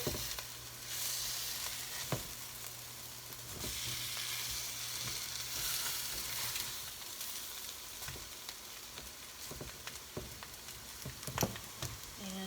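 Veggie burger patties fry steadily in a pan, a continuous broadband sizzle with a few soft clicks and knocks from utensils, fairly faint and even throughout, with no talking.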